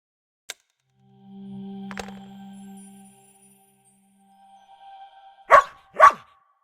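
A dog barking in the video game Lost Lands 9, two sharp barks near the end after a lone click and a soft sustained tone, set against an otherwise quiet background.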